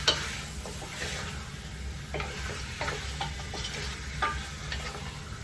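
Chunks of goat meat browning in a pot for a paleo curry goat, a steady soft sizzle with occasional stirring scrapes and light clicks, fairly close and continuous with no talking.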